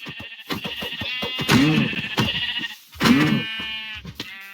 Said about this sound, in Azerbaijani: Bir dənə qoyun tapdım.